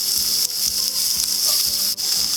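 Onion sizzling in a frying pan during vanlife cooking, a steady close hiss with faint stirring clicks running through the whole stretch.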